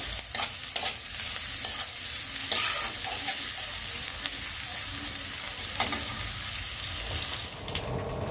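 Dried red chillies and whole garlic cloves fry in a generous amount of hot oil, sizzling steadily close by with intermittent stirring clatters and a brief watery splash.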